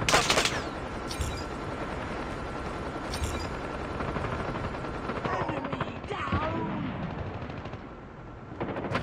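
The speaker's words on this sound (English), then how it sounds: "Stealth chopper inbound." A stealth helicopter arrives during a Call of Duty Mobile hardpoint match, its rotor noise mixed under dense bursts of machine-gun fire and battle effects, with loud, continuous gunfire and a brief dip near the end.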